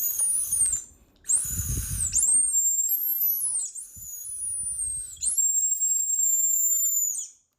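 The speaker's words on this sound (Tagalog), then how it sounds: "Pito Candy kasi mga Inday, ito ay sumisipol." High, piercing whistle tones from a Pito Candy whistle candy blown in several separate bursts, each one sliding slightly in pitch and cut off sharply, with soft breathy noise between blows.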